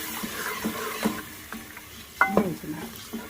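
Onions frying in a pan for chicken pulao as a little water goes in, giving soft sizzling with scraping stirs and a brief louder hiss burst midway, no talk.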